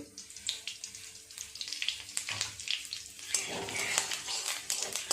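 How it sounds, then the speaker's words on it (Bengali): Bay leaves, dry chillies and cumin frying in hot oil with a continuous close sizzle, broken by stirring scrapes and a louder crackling burst partway through. "ফোড়নটা একটু নাড়াচাড়া করে ভেজে নিয়ে"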